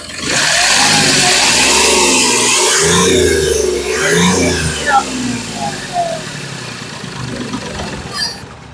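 A 2016 Hyundai Grand i10 Sportz engine revs up loudly, holding high for several seconds, easing, then blipping again before settling, with a person talking over it.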